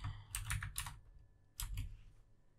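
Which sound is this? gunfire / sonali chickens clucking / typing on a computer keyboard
typing on a computer keyboard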